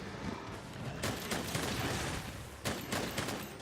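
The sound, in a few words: light bowgun rapid fire shots in Monster Hunter video game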